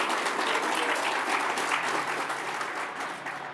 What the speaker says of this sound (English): you can clap for them also